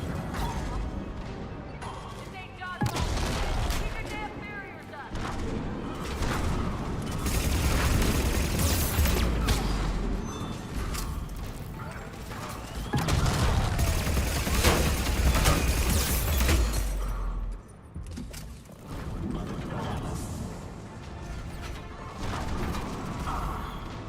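Combat in the game Mass Effect 3, with grenade blasts and gunfire: loud booming bursts and crashing impacts separated by short lulls, heavy low rumble swelling twice, mechanical clatter and whooshes throughout.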